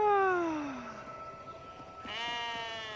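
A lamb from a flock bleats in an animated children's cartoon, a clear descending cry followed after a pause by a second higher, wavering bleat, close and fairly quiet.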